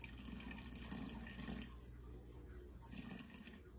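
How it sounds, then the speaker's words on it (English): Water pours steadily into a mixing container while weighing out bread dough ingredients, a continuous splashing trickle that swells and eases, fairly quiet and close. "So now I'm going to add water just in this little hole"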